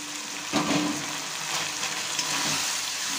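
Fried river kokila fish and potato turned into oil-rich cooked masala in a pan, a steady close sizzle with a few soft stirring knocks and scrapes.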